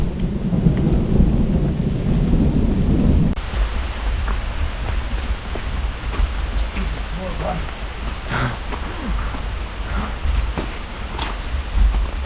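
A thunderstorm on a mountainside at Mount Nebo: deep, loud rolling thunder for the first few seconds, then a steady hiss of rain with scattered drops and faint distant rumbles.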